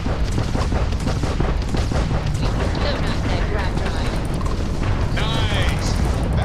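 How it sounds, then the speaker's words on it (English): Spaceship guns fire in a Starfield space battle, a dense, continuous barrage of booms and mechanical bursts layered over loud, unbroken game noise. "Let's see how my new guns do."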